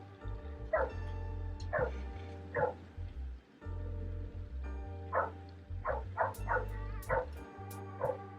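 A dog barks in repeated sharp, loud yaps, a few spaced single barks and then a quicker burst, heard nearby over a steady low hum.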